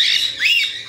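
Pet birds give a loud, harsh squawk close by, one rising screech lasting under a second with no talk over it.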